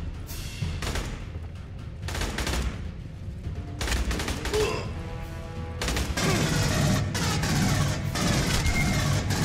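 Dense bursts of automatic gunfire and booming shots from the video game Aliens: Colonial Marines, loud and continuous with rapid overlapping volleys throughout.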